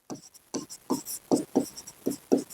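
A pen writes a surface area formula on paper, making a close series of short, quick scratching strokes in an irregular rhythm, with no talking.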